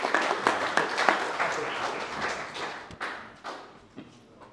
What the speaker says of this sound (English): So I can have a round of applause for everyone that's made a super effort.